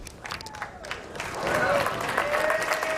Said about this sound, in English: Tom Smallwood, it's a nice round of applause